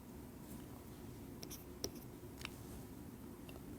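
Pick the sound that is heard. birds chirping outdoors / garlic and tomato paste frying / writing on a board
writing on a board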